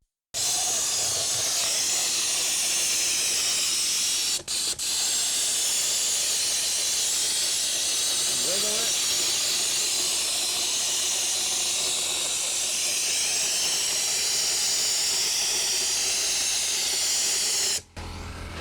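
Continuous loud air-driven hiss of a hopper gun spraying a concrete texture coat onto a stone-shaped form, steady for most of the span with brief breaks near the start and end.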